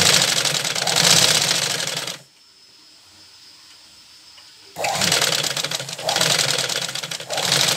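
An electric sewing machine stitches the cap piece of a handmade Santa Claus doll, running in loud, fast, steady bursts close by, with a quiet pause of a couple of seconds between two long stitching runs.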